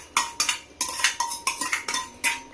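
Curd being mixed into avial in a pot, a quick run of about ten rhythmic metal spoon clinks and scrapes against the vessel, close and clear with no talking.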